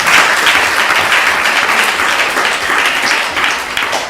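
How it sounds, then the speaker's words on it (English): Loud, dense applause from a crowd at a japa retreat, continuous for the whole stretch with a slight fade at the end and no talking. "A big round of applause to all of you."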